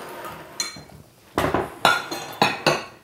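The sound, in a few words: scalloped metal bath bomb mold clinking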